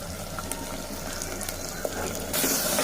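Ginger garlic paste fries in hot oil with onions and a coriander and green chilli paste for vegetable rice, a steady close sizzle that swells louder near the end.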